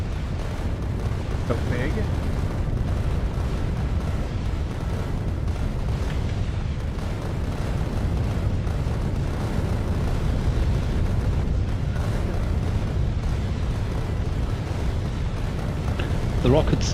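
Rocket launchers and gun turrets fire in Factorio, a steady dense rumble of booms and blasts running throughout, with people talking over it.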